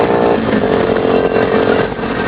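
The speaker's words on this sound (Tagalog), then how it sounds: "Ayun na po. Rumaratrat na po." A yellow motorcycle's engine revs loud and close, a dense rattling drone holding steady with slight surges throughout, no voices over it.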